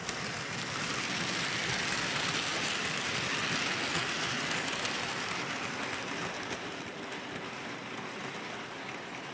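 A Hornby K1 model locomotive, number 4432, hauls its train of cars along a model railway. A steady, dense rolling rumble holds evenly throughout, moderately loud and close, with no voices.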